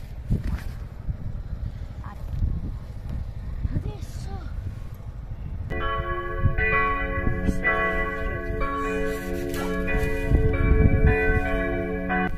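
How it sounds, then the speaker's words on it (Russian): Church bells ring out at noon in the seaside resort town of Caorle, Italy, their sustained tolling entering partway through and layered over outdoor street ambience and nearby chatter. "в 12 в церкви бьют колокола"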